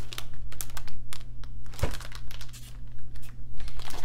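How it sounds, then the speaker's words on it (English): Small 6x8 plastic shipping envelopes handled up close, loud repeated crinkling and rustling in uneven bursts with one sharp crackle, no voice. "So these are the shipping envelopes."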